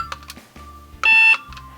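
A plastic toy cash register from a doll cafe playset gives a single high electronic beep lasting about a third of a second, close and loud, among quieter clicks and rattles of handling.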